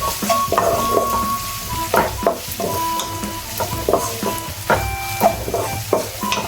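Sliced onions with salt and curry leaves sauté in a pan, a close, crackling sizzle broken by frequent clinks and scrapes of a stirring utensil.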